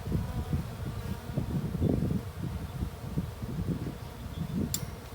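Honeybees buzzing around an open hive during an August swarm inspection, a steady low drone of many wings close by with shifting swells, with no voices over it.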